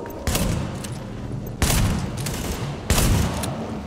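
Three heavy shotgun blasts boom out in The Division, evenly spaced about a second and a half apart, each a loud close burst with a short rumbling tail.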